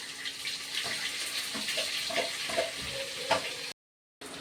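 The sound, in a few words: onions and green chillies frying in oil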